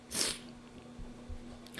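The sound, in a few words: sneeze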